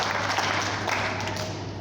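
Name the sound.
audience clapping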